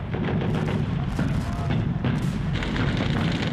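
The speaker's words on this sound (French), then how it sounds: "Mais les canons allemands sont là." German artillery cannons firing on an invasion beach in World War II, a dense, continuous roar of booming blasts and rumble with repeated sharp hits, loud and close throughout.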